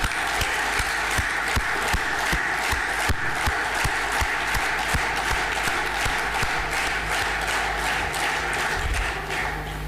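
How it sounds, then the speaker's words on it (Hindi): A crowd at a Netsurf corporate event in Hyderabad breaks into loud, sustained applause. The dense clapping fills the hall steadily for about ten seconds, with a little crowd noise mixed in. "नेक्सफ परिवार के उन सभी सदस्यों के लिए जोरदार तालियां"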